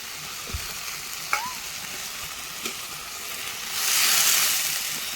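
Masala sizzles steadily in a pan for a mushroom curry, with a few light clinks, then a louder surge of hissing as a little water is poured in near the end.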